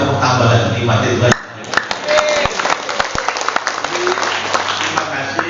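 An audience at a regional LDII congress in Papua claps in a dense burst of applause for about a second before it cuts away to a man addressing the hall over the sound system, with scattered knocks beneath his voice.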